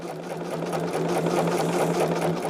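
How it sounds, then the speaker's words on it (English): A sewing machine whirs in a steady, close run of rapid stitching while stitching in the ditch on a quilt, humming evenly with no pauses or voices. "I'm just going to stitch in the ditch."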